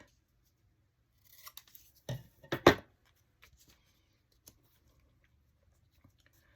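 Scissors cut through master board paper in a few quick, crisp snips near the middle, followed by faint scattered taps and handling noises in a quiet room.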